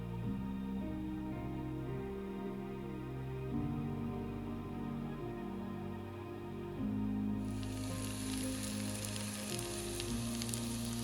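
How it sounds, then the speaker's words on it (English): Steady, close sizzling of a pancake frying in a hot pan, continuous throughout, with a brighter, louder hiss joining in near the end. "Listen to that sizzle"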